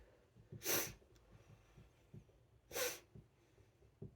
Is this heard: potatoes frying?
no